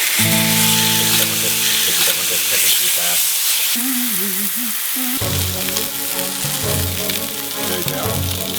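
Pork chops frying in avocado oil in a pan, a loud continuous sizzle and crackle that runs throughout, with voices talking over it for part of the time.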